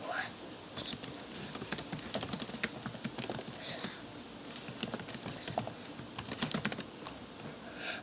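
Someone types on a computer keyboard up close, making quiet, irregular bursts of key clatter while creating a page in the old Google Sites. A faint murmur of voice may be present underneath.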